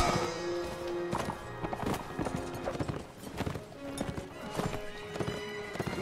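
A horse in the Mount & Blade Warband video game gallops with quick, rhythmic hoof clip-clops and lets out repeated high neighs, fairly close and clear, with no talk.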